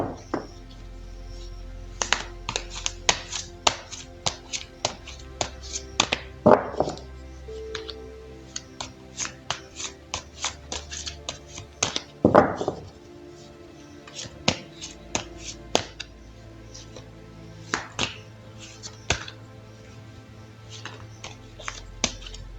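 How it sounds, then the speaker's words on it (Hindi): Tarot cards being shuffled by hand, a run of crisp, close taps and riffling clicks at an uneven pace with a couple of louder slides, no talking. "तो चलिए पहले ज़रा कार्ड्स को शफल कर लेते हैं।"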